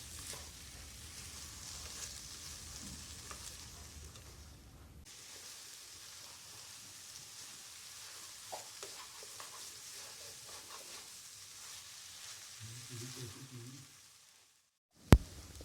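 Cabbage, capsicum, carrot and eggs fry in a pan for a bhujiya, giving a steady close sizzle with occasional stirring scrapes; the hiss drops sharply partway through, then continues more quietly before a sudden knock near the end.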